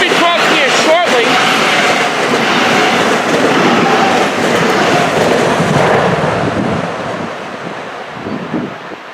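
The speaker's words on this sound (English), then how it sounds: "We're going to be seeing train 2904 running with an M-3 set led by 9866 and 10 cars." A Long Island Rail Road M-3 commuter train of 10 cars rushes past close by with a broad, loud roar of wheels and wind that holds steady and then fades toward the end.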